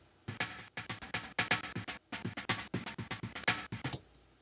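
Original unedited snare drum sample in the EXS24 sampler, played as a fast sequence of sharp, evenly spaced hits with ringing tails, fairly quiet and heard alone.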